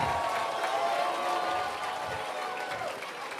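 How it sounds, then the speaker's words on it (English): A group gathered up front gets a round of applause from the crowd, a steady dense clapping and cheering wash that holds for the whole stretch with voices mixed in. "round of applause for everybody here"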